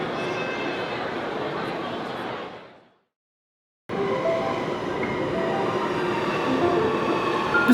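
A Sydney Metro driverless train runs on its opening day. A loud, steady rumble of wheels on rail cuts out to near silence for about a second, then returns at full strength and holds.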